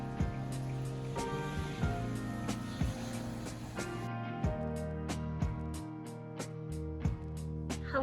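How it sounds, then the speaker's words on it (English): Steady rain falling on a rainy day, a dense continuous hiss with scattered sharper drips and taps throughout, fairly close and with no talking over it. "It is so rainy today, you guys."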